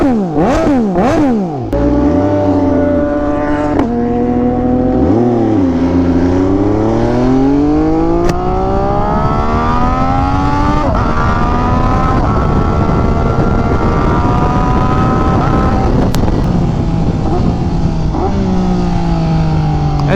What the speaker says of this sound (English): this bike already sounds pretty good